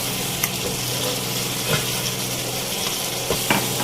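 Charsi mutton karahi, Peshawari street style, frying in oil over a full flame, a dense, constant sizzle broken by occasional scrapes and taps of a stirring spoon against the pan, with no voices.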